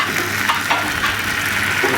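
Cabbage gyoza fry in a pan in a fine-dining restaurant kitchen, a loud, continuous close sizzle with light stirring and spattering, and no one talking.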